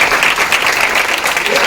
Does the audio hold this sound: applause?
yes